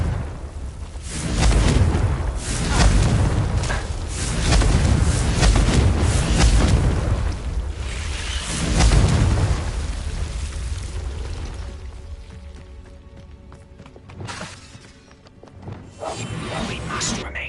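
A Confringo blasting spell erupts in Hogwarts Legacy as a loud booming explosion with rumbling bursts over several seconds, followed by quieter game ambience and a later smaller blast.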